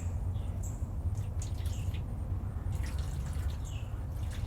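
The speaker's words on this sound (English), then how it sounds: "I'm just watering it in this tray down the bottom here" Water trickles and drips into a seedling tray in a greenhouse, soft and fairly faint, with occasional birdsong in the background.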